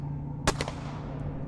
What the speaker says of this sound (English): Gunshots. Surely gunshots aimed at me.